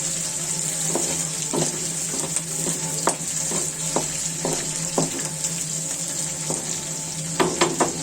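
Onion, ginger, cumin, garlic and bay leaf frying in a pan, a steady close sizzle with repeated sharp spatula scrapes and taps spaced through the mix, no voices.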